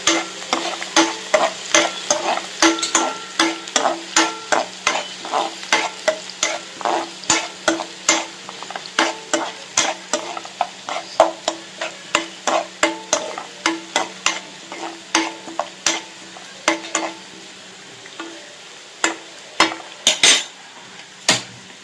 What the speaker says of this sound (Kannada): ಇದಕ್ಕೆ ಈರುಳ್ಳಿ ಹಾಕೊಳ್ಳೋಣ. ಚೆನ್ನಾಗಿ ಫ್ರೈ ಮಾಡ್ಕೊಳ್ಳಿ.